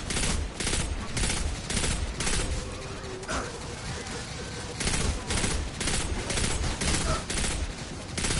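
Rapid gunfire in Destiny 2 rattles in dense bursts, loud automatic volleys with brief gaps between them, a voice talking faintly underneath.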